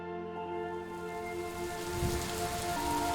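Steady rain falling in the video game Superliminal, a dense hiss of drops on surfaces, fairly loud and continuous throughout, with low tonal game ambience underneath.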